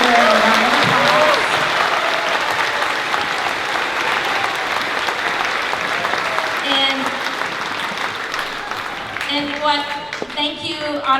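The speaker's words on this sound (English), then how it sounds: "I think we need to give Mr. Berger a round of applause" Audience applause at a school spring concert, a broad steady wash of clapping that slowly fades, with scattered voices and cheers mixed in toward the end.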